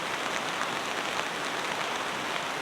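Heavy rain falls steadily at a campsite, a dense, even hiss of drops that stays constant and fairly loud with no voices.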